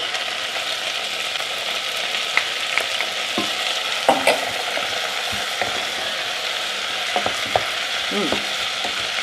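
Garlic sizzles steadily in a hot frying pan, a loud, continuous hiss broken by occasional clicks and scrapes of stirring, heard up close with no talking.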